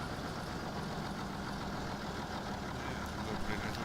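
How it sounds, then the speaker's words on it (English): A small tractor in Farming Simulator 17, its engine still a work in progress, idles with a steady low rumble and a rough, knocking rattle, close and constant throughout. "Sounds like he's got some work to do on the engine still. He's got a bit of a knock and rattle"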